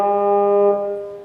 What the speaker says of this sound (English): we have a lovely little pitch wheel bend effect happening there